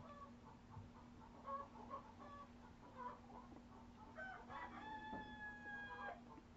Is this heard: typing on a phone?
no